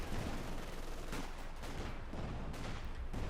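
Continuous artillery duel in Company of Heroes 2, with Priest self-propelled guns, 25-pounders, Panzerwerfers and mortars trading fire: repeated booming impacts and dense gunfire roll on steadily, loud and near, with a few sharper blasts standing out.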